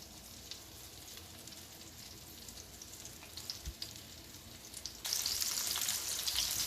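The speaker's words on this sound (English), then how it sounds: "we've got all our chicken on medium-high heat, cooking away in our frying pan" Steady crackling sizzle of chicken frying in a hot pan over medium-high heat, growing louder and brighter toward the end; no voices.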